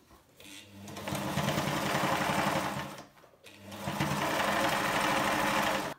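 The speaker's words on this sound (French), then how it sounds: "Donc, on passe à la couture." A sewing machine stitches the French seams of a foldable fabric tote shopping bag, running in two steady, loud bursts of rapid mechanical whirring separated by a brief pause.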